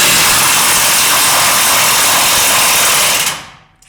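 An impact gun runs in one loud continuous whir on a 21 mm nut at a RAM 1500's rear suspension, then cuts off abruptly near the end.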